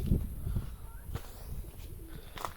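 Soft, low cooing from a young tumbler pigeon in short murmurs, close by, with rustling and faint background noise.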